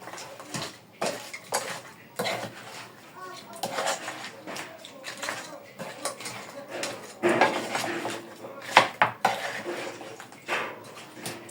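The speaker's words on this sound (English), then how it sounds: "So I'm going to stir." A spoon stirs nkwobi sauce in a pot, with repeated metallic clinks and scrapes against the pot in irregular bursts while a person talks over it.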